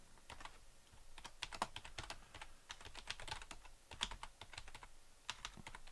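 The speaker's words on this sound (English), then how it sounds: "I'm typing into nothing here" Rapid typing on a computer keyboard, irregular bursts of crisp key clicks close to the mic, fairly quiet and steady throughout with no talk.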